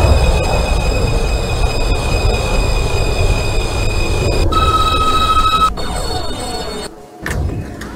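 A simulated New York subway F local train at Carroll Street in the OpenBVE train simulator rumbles steadily with high tonal squeals and whines from the wheels, then the noise drops and shifts near the end as it slows.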